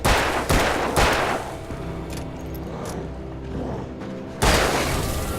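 Gunfire in the Alan Wake video game: a few sharp, loud shots at the start about half a second apart, then quieter game ambience, and another loud blast near the end.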